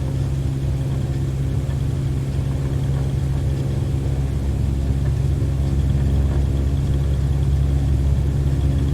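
A Cessna 152 engine in Microsoft Flight Simulator runs at full throttle for takeoff, a loud continuous droning rumble with steady harmonic tones and no variation in pitch.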